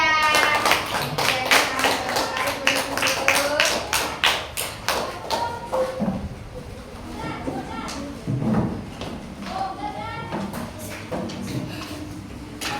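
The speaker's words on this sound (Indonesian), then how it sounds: "Beri tepuk tangan untuk kelompok 3." Fifth-grade pupils in a classroom clap for a presenting group, sharp rhythmic claps in a patterned beat at first, then looser taps, with voices talking over it.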